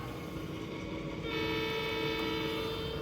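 A steady low rumble runs throughout, then a model train's electronic horn sounds partway in and holds, fairly loud over the hum.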